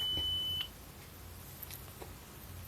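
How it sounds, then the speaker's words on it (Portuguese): A computer's audio troubleshooter plays a single steady, high test beep lasting about half a second, followed by faint room hiss. "Conseguiu ouvir o bip que deu no meu computador?"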